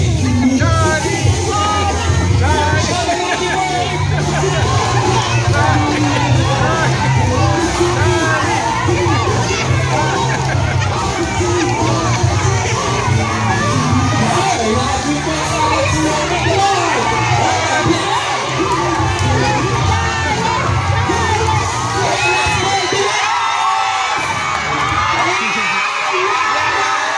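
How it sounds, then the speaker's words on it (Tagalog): At a bird show in a crocodile park in Davao, a crowd with many children shouts and cheers loudly and continuously during a basketball-playing bird act, with whoops and babble under an announcer's voice. "palakasan po kasi ng sigaw po dito"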